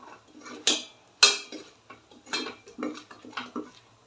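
A spoon clinks and scrapes against a pot while chilli powder, coriander powder and garam masala are mixed in, giving a series of separate metallic knocks and scrapes with quiet gaps between them.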